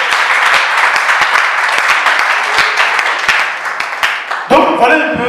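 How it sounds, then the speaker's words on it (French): A church congregation at a December teaching session applauds loudly with dense, continuous clapping and a few sharp individual claps, and voices rise briefly near the end. "On peut acclamer Jésus."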